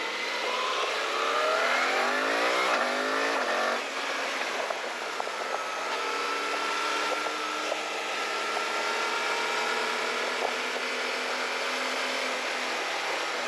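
Suzuki V-Strom 1050 DE motorcycle accelerating hard, the engine note climbing through several rising sweeps and gear changes, then settling into a steady high drone under strong wind noise.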